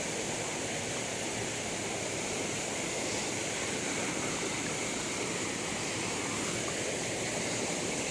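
A constant roar of cold spring water pours down a forest waterfall, broad, even and close, without pauses or any talking over it.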